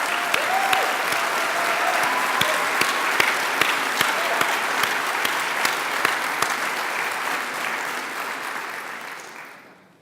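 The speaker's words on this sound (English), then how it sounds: "please, just another round of applause for all the hard work of New Hampshire Youth Movement" A large audience at a New Hampshire political rally gives a sustained round of applause, dense steady clapping with a few louder sharp claps, holding for several seconds before fading away at the end.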